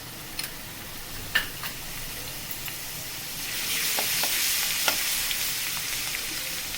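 Chopped garlic sizzles in hot oil with cumin over a high flame for fried rice, a steady close frying hiss that swells midway, with a few light ticks of a utensil against the pan.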